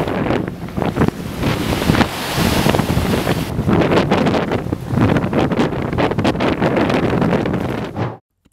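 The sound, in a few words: strong wind and waves during coastal flooding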